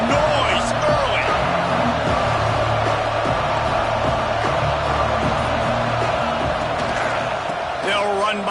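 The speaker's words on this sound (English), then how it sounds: "This crowd bringing the energy and noise early." A stadium crowd in the College Football 25 video game keeps up a steady, loud roar throughout, with scattered shouts and thuds over it and a commentator's voice running through the noise.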